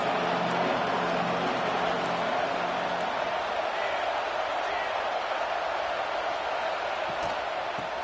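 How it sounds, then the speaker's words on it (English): Stadium crowd in the College Football 26 video game on PS5 roars as a steady, loud, dense wash of cheering that holds evenly throughout with no break. "This crowd trying to make life miserable for this offense."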